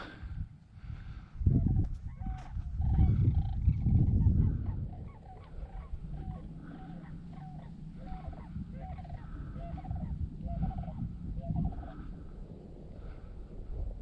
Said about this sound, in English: frog song